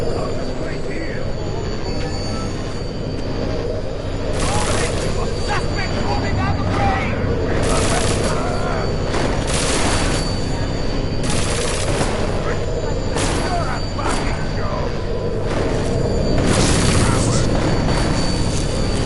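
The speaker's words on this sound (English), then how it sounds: "Keep shooting!" Gunfire in the video game Deus Ex: Mankind Divided, loud bursts of shots standing out at intervals from a dense, rumbling battle mix with voices.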